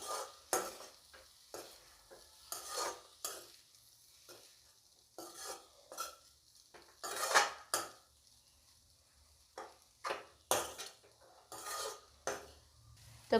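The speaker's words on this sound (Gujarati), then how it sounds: "હવે સરખી રીતે હલાવી દઈશું ફરીથી।" Spoon stirring leftover masala khichdi in a pot, with amchur powder and coriander leaves just added; repeated scraping strokes in uneven bursts against a quiet background, with no talking.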